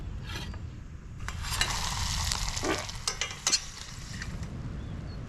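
Kala fish patties made with flour, egg and panko fry in a pan in Hawaii, a dense sizzle with scattered pops and spits that rises and swells partway through before easing.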